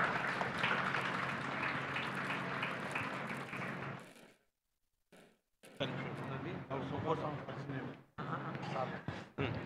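An audience claps for a guru at a spiritual discourse gathering, with sustained crowd applause that stops briefly, then resumes and fades in patches.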